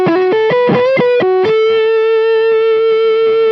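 Electric guitar played through two stacked drive pedals, giving a thick distorted tone: a run of quick picked notes, then one long sustained note ringing out alone and loud.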